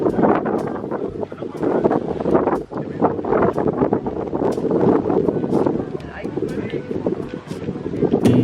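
Gusty wind buffets the microphone outdoors on a walk through the city of Neumarkt in Germany, with heavy, uneven rumbling blasts throughout. Voices seem to be present under the noise.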